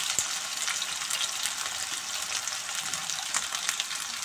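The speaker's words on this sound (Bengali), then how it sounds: "একটু নেড়ে চেড়ে ভাজবো।" Potatoes frying and being stirred in a pan for a cabbage ghonto: a steady, close hiss of hot oil with light scraping and a few soft clicks, no voices.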